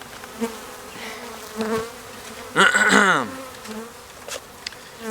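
Package honey bees buzzing as they are shaken onto old comb, a soft steady hum punctuated by several short swells and one louder, denser burst of wingbeats close by.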